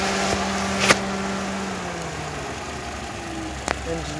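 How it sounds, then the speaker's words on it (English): The engine of a 2015 Toyota Corolla S idles with the hood open, giving a steady, low mechanical hum that runs throughout. Two brief knocks or clicks break through the hum. "Engine's running just fine."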